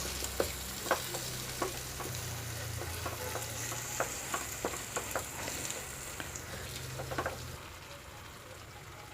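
Egg gravy with sprinkled coriander leaves is stirred in a sizzling pan, the spoon scraping in irregular taps over a continuous bubbling fry, close and fairly loud.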